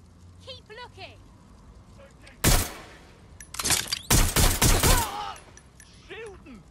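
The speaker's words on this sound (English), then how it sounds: "Shooting!" Bursts of gunfire in the video game Watch Dogs Legion, loud broadband volleys: one sharp burst, then a longer rapid string of shots, with brief in-game voice callouts around them.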